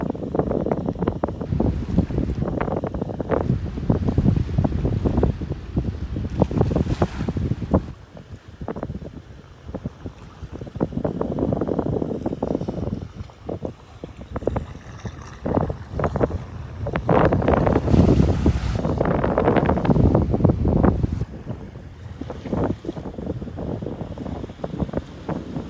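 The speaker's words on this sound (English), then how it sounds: "I'd say some of the gusts right now are probably over 10 miles an hour." Strong wind gusts buffeting an outdoor microphone, surging and fading in irregular roaring bursts with low rumble, loud and close, no voices.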